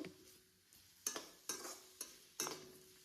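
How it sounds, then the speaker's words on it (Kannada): Chopped onions fry in a pan over a medium flame, with a faint, soft sizzle broken by several sharp clinks as a spoon stirs them against the pan. "ಈರುಳ್ಳಿ ಕೆಂಪು ಆಗುವಷ್ಟು ಹುರ್ಕೋಬೇಕು. ಮೀಡಿಯಂ ಫ್ಲೇಮಲ್ಲಿ ಹುರ್ಕೊಂಡ್ರೆ ಸಾಕಾಗುತ್ತೆ."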